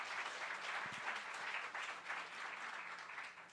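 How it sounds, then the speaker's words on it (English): A panel audience gives itself a round of applause, a sustained, even patter of many hands clapping at a distance, quiet overall and easing slightly at the close. "So give yourselves a round of applause"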